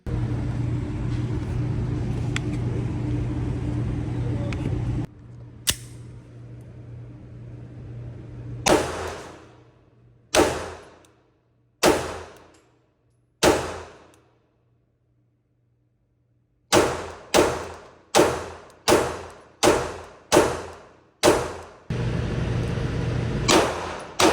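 Sharp, loud pistol shots from a SIG Sauer P365 Fuse, first a few spaced single rounds, then a rapid string of about seven evenly timed shots, each with a brief ringing decay, between stretches of steady background hum.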